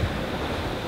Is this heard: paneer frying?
no